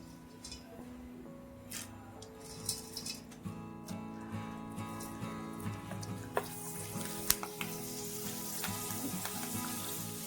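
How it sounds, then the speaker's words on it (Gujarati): Homemade potato french fries crackle in hot oil with a constant sizzle, punctuated by repeated light clinks and taps of a utensil against the pan. "તો આ જ રીતે આપણે થોડી તળી લઈએ"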